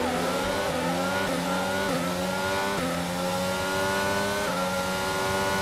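Formula 1 race cars in the F1 2022 video game roar past one another, several high-pitched engines rising and shifting pitch together in a steady, loud, continuous drone with no talking.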